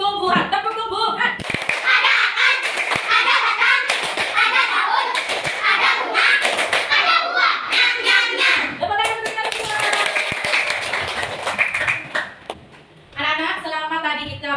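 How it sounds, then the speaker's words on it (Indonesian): Children in a classroom perform a rhythmic clapping chant about plants, with sharp repeated hand claps in patterns under their loud chanting voices throughout. "Bagaimana kalau kita tepuk tumbuhan?"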